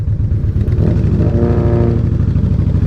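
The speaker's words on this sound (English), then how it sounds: "Did that car sound good to you?" A loud car engine close by, rumbling steadily as it rolls past slowly at walking pace, with a deep throaty idle-like drone and slight rise in revs midway.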